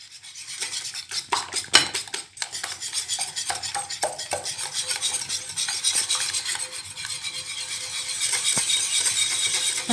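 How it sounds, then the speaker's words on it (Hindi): Flour being beaten into omelet muffin batter in a bowl, a steady scraping, clinking stir of utensil against the bowl that runs continuously with sharper knocks early on, fairly close. "अब हमने इसमें थोड़ा थोड़ा करके मैदा ऐड करते जाना है और इसको बीट करते जाना है।"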